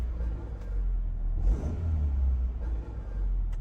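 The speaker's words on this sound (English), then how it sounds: "I'm gonna guess that's the exhaust rattling." A Honda Civic EG hatchback engine idles with a steady low rumble and a faint rattle from the exhaust, running continuously with a brief swell partway through.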